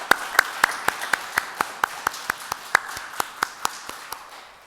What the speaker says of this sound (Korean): 우리 환영의 박수로 맞겠습니다.